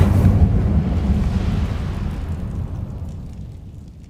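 A roaring burst of the Incendio fire spell in Hogwarts Legacy on PC, loud at the start and then a long crackling rumble that fades away over several seconds.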